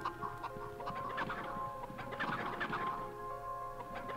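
Chickens clucking in the video game MediEvil, several hens giving short, overlapping clucks and squawks in quick bursts, fairly close but quiet, with no speech.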